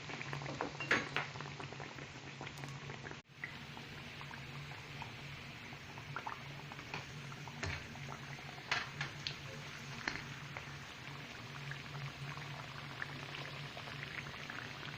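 Cooking oil poured into a pan with food frying in it, a steady soft sizzle with scattered crackles and pops, plus an occasional clink of a utensil.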